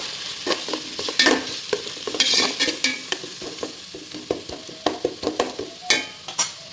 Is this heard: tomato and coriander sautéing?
yes